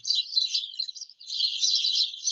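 Birds sing in a steady, high, chattering stream of chirps and twitters, with one brief pause, clear and fairly close, and no voices.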